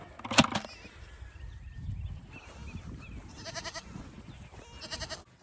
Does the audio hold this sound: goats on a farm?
yes